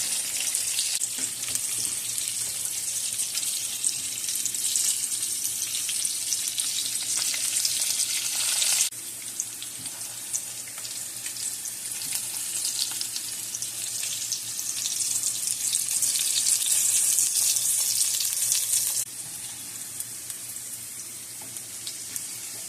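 Frozen fries fry in hot oil, a dense, steady hiss of bubbling grease that holds close and loud for the whole stretch, with slight shifts in intensity and no voices.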